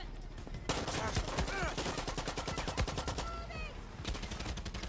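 Gunfire in the video game Far Cry 6 comes as rapid automatic bursts and cracks, loud and close, nearly continuous, with a short break before the shooting resumes near the end, and a voice is faintly mixed in.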